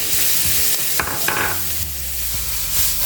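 Ginger and garlic hit a hot stir-fry pan with a loud, close, continuous sizzle, and a few quick scraping stirs come through over the hiss.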